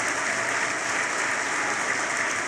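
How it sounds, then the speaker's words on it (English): Audience applause fills a 2018 political gala ballroom, a dense, steady wash of many hands clapping at once, loud and unbroken with no voices rising above it. "Now, I'm even going to clap for that."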